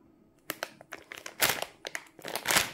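A plastic bag of lollipops crinkles and crunches in irregular bursts as it is handled close by, loud and uneven with short pauses.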